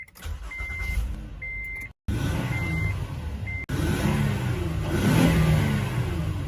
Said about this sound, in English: That sounds like a diesel, but it's a naturally aspirated Japanese V6.